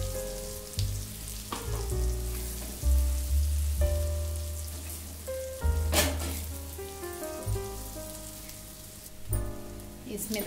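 Ground peanuts tossed into a hot pan crackle and sizzle, with irregular bursts of frying and a few louder clatters and stirring knocks over a steady background.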